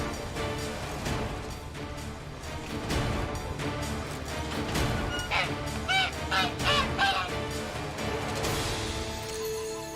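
A caged goose in the Witcher 3 video game, honking loudly in a burst of repeated calls over game music and effects.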